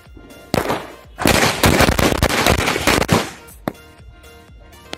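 Diwali firecrackers go off in a dense, loud crackling barrage of rapid sharp bangs, then trail off into a few scattered pops.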